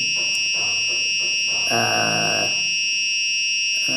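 A constant high-pitched electronic buzzer tone from an Arduino obstacle detector alarm sounds throughout, loud and steady, with some clattering noise beneath it.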